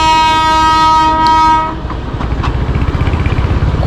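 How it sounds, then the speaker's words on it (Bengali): A toy train in the hills sounds a long, loud, steady horn blast, then rolls on with a rhythmic clickety-clack of wheels on rails. "টয় ট্রেনের ধোঁয়া উড়ে আস্তে আস্তে করে যাচ্ছে"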